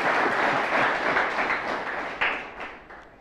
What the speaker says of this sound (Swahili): Mpige makofi Sitati